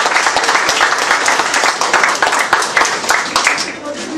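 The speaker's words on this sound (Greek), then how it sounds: "Ένα θερμό χειροκρότημα στον πατέρα Νεκτάριο" Warm applause for Father Nektarios at an Orthodox gathering, with quick distinct hand claps close by over a dense crowd clapping, steady throughout the four seconds.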